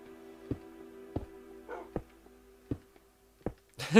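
A Minecraft dog makes short, sharp yelps at a steady spaced rhythm, with a brief whimpering whine between them and a louder rustle at the end, heard clearly and alone.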